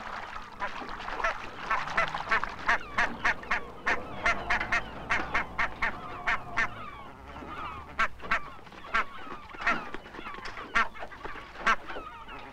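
A flock of barnacle geese (Branta leucopsis) keeps up loud, repeated yelping honks at close range, overlapping in a busy, irregular chorus.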